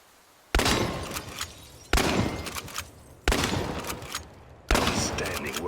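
Four heavy shotgun blasts from the video game Chernobylite, evenly spaced about every 1.4 seconds, each loud, booming and close, trailing into a reverberant tail with faint clatter between shots.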